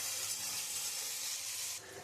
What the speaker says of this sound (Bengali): একটু লাল লাল করে পেঁয়াজটা একটু ভেজে নেব।